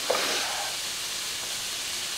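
Mixed vegetable curry sizzles as it cooks down in a pan, a steady, continuous hiss that holds at an even level throughout, with no voices.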